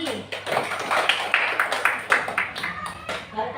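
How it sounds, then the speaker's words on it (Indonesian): Children in a classroom clap their hands together in a quick run of sharp, regular claps, close and fairly loud, with voices mixed in. "Hebat, tepuk tangan lagi."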